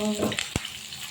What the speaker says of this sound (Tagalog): Magprito rin tayo ng sibuyas.